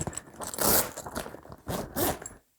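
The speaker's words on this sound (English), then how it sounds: "Just unzip that, unvelcro that, and it zips inside." A zipper on a 5 x 5 Gorilla Grow Tent is pulled in several quick rasping strokes, with short pauses between bursts, close and fairly loud.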